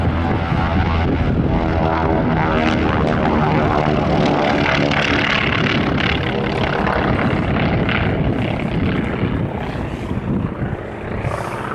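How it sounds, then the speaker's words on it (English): A C-47 propeller airplane at a World War 2 weekend air show at the Mid Atlantic Air Museum drones loudly overhead, its engines throbbing steadily the whole time before easing slightly at the end. "The C-47."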